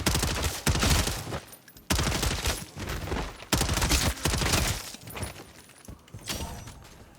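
Hip-fire gunfire in Modern Warfare Zombies, several loud, sustained bursts of rapid automatic shots separated by brief pauses.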